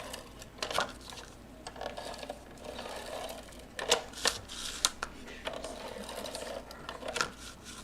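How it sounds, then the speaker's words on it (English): Handheld tape gun pulling and applying tape to a paper spinner card, giving sharp ripping and clicking bursts scattered across the clip, close and moderately loud, some in quick pairs. "So go ahead with your tape gun."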